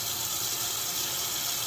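Water rushes steadily from a leaking kitchen faucet, a continuous close hiss with no pauses and no voices over it.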